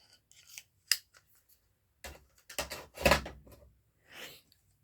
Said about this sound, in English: Let's try my paper scissors just to give you